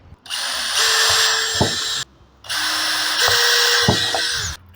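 A power drill bores a hole through the base of a 12-volt fan to mount a switch: two close, loud, sustained whining bursts with a short pause between them.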